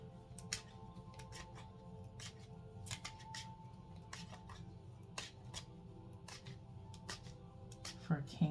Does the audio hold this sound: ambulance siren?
no